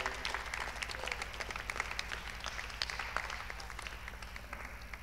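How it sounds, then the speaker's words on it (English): Audience applause at a festival feedback café event, steady dense clapping from a moderate distance throughout, with a low hum underneath. "An applause, please."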